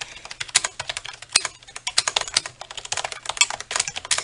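Brisk typing on a Black Web gaming keyboard: a steady stream of close, crisp key clicks with occasional heavier thocks, uneven in rhythm, heard alone in a quiet room.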